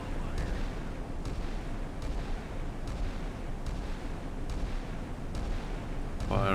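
Naval guns firing in the Sea Power naval warfare game, set in the Baltic Sea, with a steady rumbling battle background and repeated sharp reports spaced roughly every second, loud and continuous throughout.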